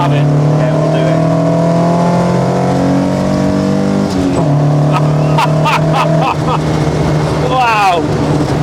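A Ford Mk1 Escort engine revs hard while driving, loud rising harmonics climbing through gears with a brief drop at a shift, heard from inside the car with people talking over it.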